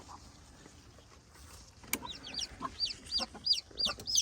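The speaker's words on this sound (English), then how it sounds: "I came out to tend to the chickens." Chickens cluck and chatter close by, a few soft calls at first, then a rapid run of sharp, repeated clucks growing louder.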